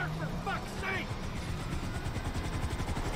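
Helicopter in the video game GTA 5 during a sandstorm, a steady rotor and engine drone with a fast low thump running under the whole stretch at moderate level. Someone speaks briefly near the start.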